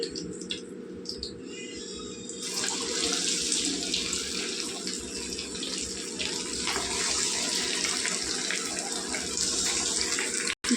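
Spiced chicken wings deep-frying in hot oil hiss quietly at first, then burst into a loud, steady sizzle that keeps going until a sudden cut near the end.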